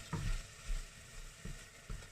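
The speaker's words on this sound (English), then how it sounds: "It should start frying again now." Food frying in a pan after pasta water is drained, faint soft sizzling with a few brief louder bursts, quiet and close with no talk.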